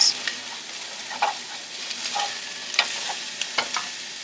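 Italian sausage fries in a pan with a continuous close sizzle, broken by occasional scrapes and taps of a spoon as it is stirred; no one speaks.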